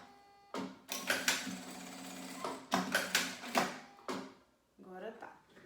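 A domestic sewing machine stitches a test seam on a fabric scrap in two or three short whirring runs with brief stops between, close by, with a little talk near the end.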